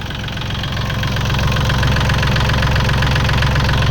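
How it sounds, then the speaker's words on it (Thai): A Kubota L3608DT three-cylinder tractor engine idling steadily nearby, a low rumbling chug with a slight knocking rhythm, loud and continuous with no voices. "เครื่องดีไม่มีอายนะคะ เครื่องยนต์3สูบค่ะ"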